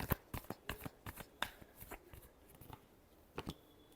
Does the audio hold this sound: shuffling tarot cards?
yes